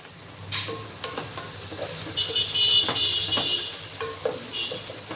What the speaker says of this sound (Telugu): కొద్దిసేపు ఫ్రై చేసుకున్నాము ఇప్పుడు కొద్దిగా సాల్ట్ వేసుకుంటే ఈ ఆనియన్స్ త్వరగా మగ్గుతాయి